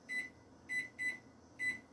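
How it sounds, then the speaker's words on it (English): Kitchen timer on a crockpot being set while cooking chicken and dumplings: four short, bright electronic beeps at uneven intervals, close and clear over a quiet room. "I'm going to set the timer for another hour."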